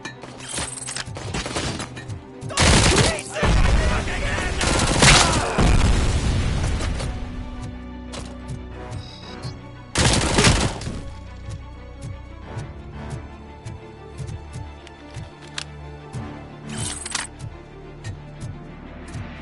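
Gunfire in the video game RoboCop: Rogue City comes as loud, sharp bursts of shots and booming impacts in clusters, with quieter stretches of game ambience between them.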